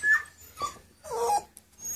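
A puppy whimpers in a few short, high, breathy whines with brief yips between them, close and fairly loud with quiet gaps.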